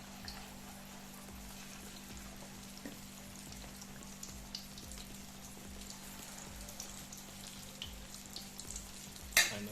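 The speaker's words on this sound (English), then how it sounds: "Next, I'll fry the curry fritters." Curry saltfish fritters fry in hot oil, a continuous fine crackling sizzle like light rain, steady and moderately quiet over a low hum, with a sharp clatter right at the end.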